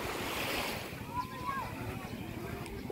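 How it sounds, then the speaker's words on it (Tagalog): Surf washes steadily on Calayo Beach in Nasugbu, a soft continuous rush mixed with gusty wind buffeting the microphone while walking along the shore. "walking along the beach"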